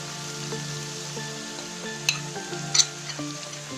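Minced meat keema fries in a pan with its water cooked off, a steady soft sizzle with occasional light stirring clicks and scrapes, close and alone under a faint background hum.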